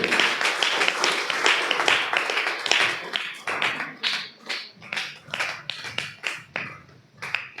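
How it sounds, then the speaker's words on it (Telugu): An audience at a church New Year 2026 feast for Mary's divine motherhood claps. A dense round of applause thins into scattered, sharper individual claps toward the end. "గడియ చప్పట్లు కొట్టండి"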